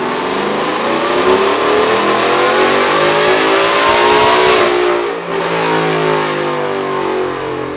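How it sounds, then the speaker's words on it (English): A Ford F-150 with a freshly built forged engine and VMP Gen3 supercharger roars on a dyno, holding a loud, steady high-rev drone that dips briefly near the end before surging again. "we're just throwing it back up on the dyno, verifying that everything's good with the truck after the new forged engine"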